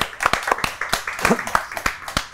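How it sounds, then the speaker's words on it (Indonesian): A small audience clapping at a casual talk-show hangout, a short burst of distinct, close handclaps in an uneven rhythm, with a voice speaking underneath. "tepuk tangan buat El Nanda"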